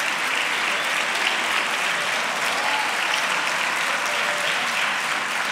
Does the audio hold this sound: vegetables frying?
no